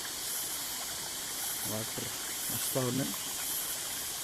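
Water streams down from the hilltop at Bandhakonda, a constant rushing hiss. A voice breaks in twice briefly over the flow.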